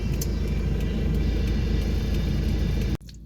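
A car drives slowly into a parking area off West Avenue, its engine rumbling steadily close by before cutting off abruptly near the end.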